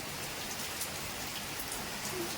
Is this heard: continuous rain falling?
yes